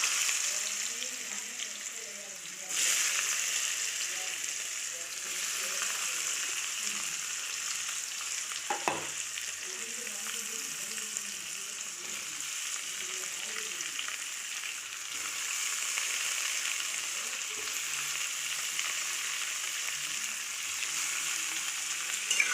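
Diced papaya, potato and chana dal fry in hot oil in a pan, a steady even sizzle with occasional stirring scrapes, running alone and close for the full stretch.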